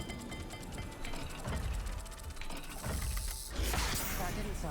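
Dial lock mechanism turning in the Hogwarts Legacy video game, heard as continuous clicking, ratcheting and grinding with a louder clunk near the end, fairly close and filling the whole moment.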